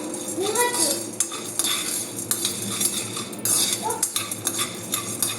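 Lentils roasting dry in an iron kadai, with a spoon scraping and stirring against the metal pan in steady clinks and rattles over a soft background hiss, close and moderately loud.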